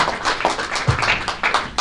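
Scattered applause and individual claps from a fan convention crowd at a Lost Girl panel, SuperMegafest 2014, greeting panel guests; uneven, fairly close hand claps with some louder single hits.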